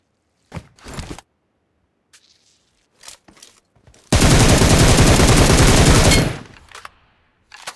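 Gunfire in a shooter video game: a few isolated shots, then one long, loud sustained burst of automatic fire lasting about two seconds, followed by quieter scattered shots.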